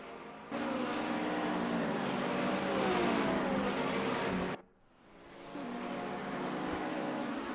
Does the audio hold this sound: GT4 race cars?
yes